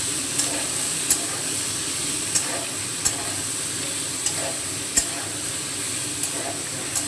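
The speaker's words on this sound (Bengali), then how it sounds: "লবণ হলুদ দিয়ে আলুগুলো ভেজে নেওয়ার পর ওর মধ্যে দিয়ে দেবো কুচনো পেঁয়াজটাকেও লাল করে ভেজে নিতে হবে।" Potatoes and finely chopped onion frying in oil with salt and turmeric, sizzling steadily while a spoon stirs them, giving soft periodic scrapes and clicks every second or so, close and fairly quiet with no talking.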